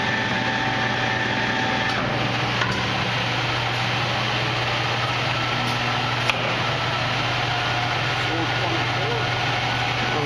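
Victor lathe with its spindle turning at 53 RPM, a steady machine hum and drone with a few faint clicks, running throughout at an even level.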